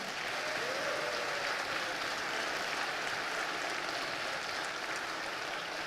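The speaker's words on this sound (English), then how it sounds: "Let's give yourselves a round of applause again." A town hall audience held by Senator Reverend Warnock applauds in a dense, steady wash of clapping that fills the room at moderate loudness throughout, with no voices over it.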